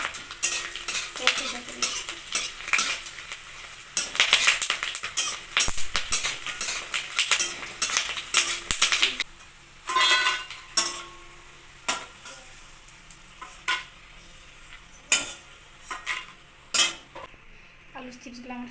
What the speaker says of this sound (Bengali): আলুর চিপস ভাজার জন্য কয়েকটা সাদা তেল দিয়ে আলুর চিপসটা ভেজে নিই।